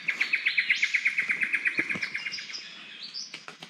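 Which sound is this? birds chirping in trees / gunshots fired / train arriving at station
birds chirping in trees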